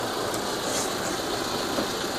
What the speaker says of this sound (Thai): นี่นะครับเครื่องยนต์ดีเซล